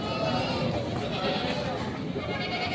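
Goats at a livestock sale bleat amid a crowded, noisy market, their calls blending into steady background chatter as people talk throughout.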